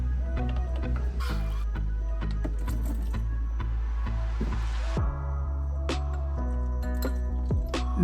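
Engine oil draining from the oil pan of a Porsche 911 in a workshop, a steady liquid trickle with drips and a few clinks over a constant low mechanical hum.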